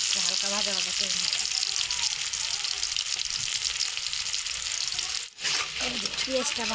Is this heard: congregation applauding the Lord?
no